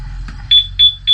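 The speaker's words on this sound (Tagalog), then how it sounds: "So pag tinap natin itong motor, bibigay siya ng warning na naka-alarm siya." Yamaha Aerox 155 scooter anti-theft alarm set off by a tap on the motorbike: three loud, sharp electronic beep bursts in quick succession, close by.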